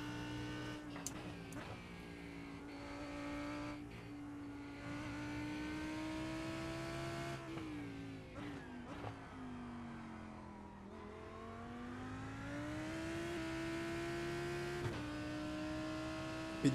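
Race cars in the iRacing sim racing game drone continuously at moderate level, engine tones climbing and dropping as gears shift through a race, with no talk over it.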